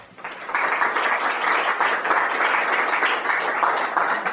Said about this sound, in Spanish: Ahora sí, el aplauso es bienvenido.